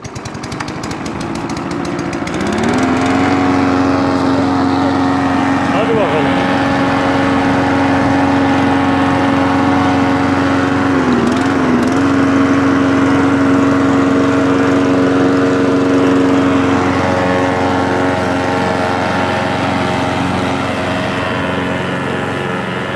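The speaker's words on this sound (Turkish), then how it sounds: "Nasıl biçiyorum bir bakalım." A lawn mower cutting grass close by, its loud steady engine drone running continuously with slight pitch dips as it works through the turf, no talking.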